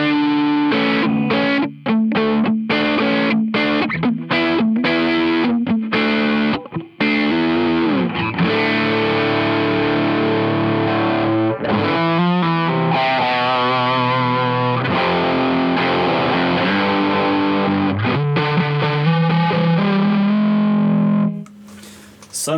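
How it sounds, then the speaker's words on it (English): Electric guitar driven through a Boss/JHS JB-2 Angry Driver overdrive pedal, with thick distorted chords and riffs played steadily and loud, alone without talk, ending on a sustained note. "Fat. So much fatness. Big drive sound."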